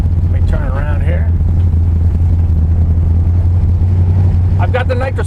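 Heavy, loud engine rumble from a Dodge Dart drag car while driving fills the stretch steadily, with a few brief higher tonal sweeps near the start and end.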